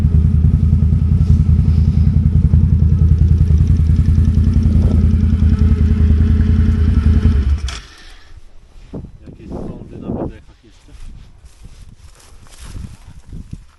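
A loud, steady rumbling engine of a 2024 Can-Am Outlander XXC 1000 ATV with a loud exhaust idles and revs close by for several seconds, then cuts off, leaving clattering and voices talking.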